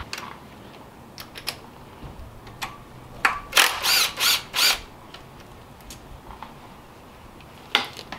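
A ratchet works the oil pan bolts on a BMW N54 engine: scattered light clicks, then four quick, loud, close ratcheting bursts in a row, with no talking.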